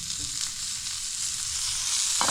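A thick cauliflower steak, just flipped, pan-frying in a steady, bright hiss that holds evenly throughout, close by, with a soft knock near the end.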